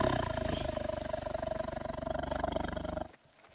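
Loud, sustained tiger roar from theHunter: Call of the Wild hunting game, a deep rumbling growl held for about three seconds before cutting off abruptly into quiet.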